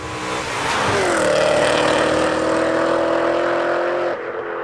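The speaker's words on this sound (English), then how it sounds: "And the exhaust isn't too loud" A BMW M5 (E39) revs up, then holds a loud, steady exhaust drone close by before easing off near the end.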